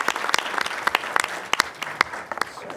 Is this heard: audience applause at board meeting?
yes